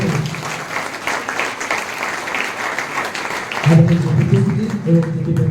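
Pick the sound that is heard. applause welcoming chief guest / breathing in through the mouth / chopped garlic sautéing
applause welcoming chief guest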